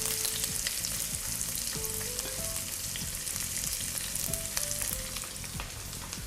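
Onions sizzling in hot oil with curry leaves and mustard seed, a steady close crackling fry with occasional stirring clinks throughout.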